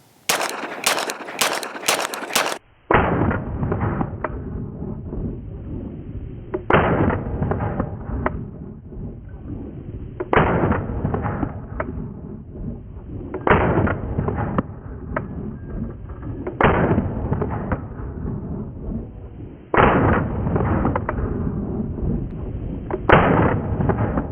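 A Tisas 2011 pistol with a Lucky 7 porting package fires 115-grain ammunition outdoors, sharp loud reports spaced a few seconds apart, a quick string at the start followed by single and paired shots with ringing decay.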